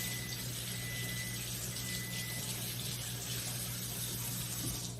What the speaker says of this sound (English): Gotta rinse my hands.